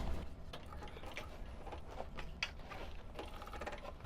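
A domestic sewing machine back stitching a seam on a shoulder bag at a 3.5 stitch length, quiet rapid mechanical ticking and rattling from the mechanism, steady with small clicks and no talk.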